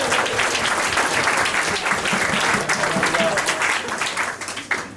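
Warm applause follows a magic trick at a funeral reception, a thick, continuous clapping from a room of people that holds steady, then thins and tapers off near the end.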